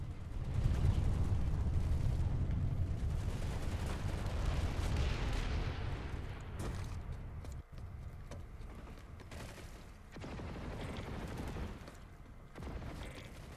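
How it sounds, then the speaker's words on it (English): Deep, rumbling booms of video game explosions roll on continuously, loud at first, then thinning into scattered blasts and crackles. "Explosions everywhere."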